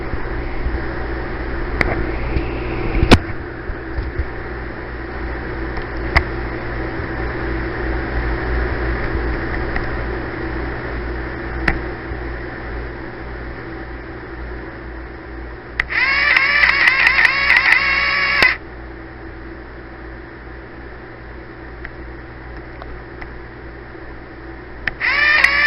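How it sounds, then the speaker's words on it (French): A printing calculator's printer runs in a short mechanical burst, a buzzy chattering rattle of about two seconds partway through, with a second brief burst near the end over a steady low room hum. "je vais démarrer la calculatrice et vous pourrez entendre et voir l'imprimante"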